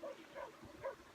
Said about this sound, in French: là il y a un chien qui a de la volonté. La volonté d'aboyer